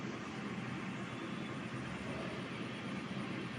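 An air fryer preheating runs with a steady, even fan whir and broadband rush, faint and constant throughout with no voices.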